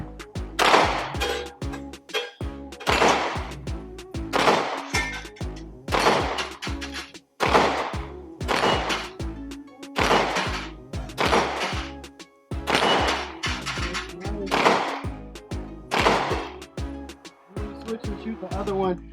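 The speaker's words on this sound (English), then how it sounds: "I'm going to load them up and let's take some shots with them." Glock 45 MOS pistol firing Fiocchi 9mm rounds at a range, giving sharp, loud reports spaced roughly every two seconds in a steady series of about nine shots.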